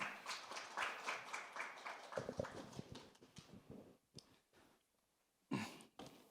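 At a teachers' presentation event on joint school curricula in Incheon, the crowd applauds a teacher coming on stage; brisk clapping thins into scattered claps, falls nearly silent, then a final brief burst.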